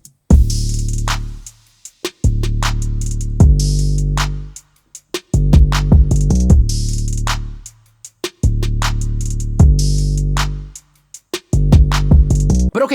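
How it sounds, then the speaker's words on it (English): A full hip-hop drum pattern in Studio One 5, with a riser, a crash and a deep sustained 808 under kicks, snares and hats, looping in loud repeating bars with brief drops between them. "Now last but not least, we had a bit of a riser and a crash just to kind of introduce that section."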